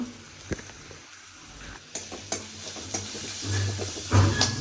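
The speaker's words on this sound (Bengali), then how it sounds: "এখানে পেঁয়াজ ভাজা আমাকে দিয়ে দিল" Onions sizzle gently in a home kitchen pan while a few sharp clicks and stirring scrapes punctuate the steady frying hiss, close up and fairly quiet, with no one speaking.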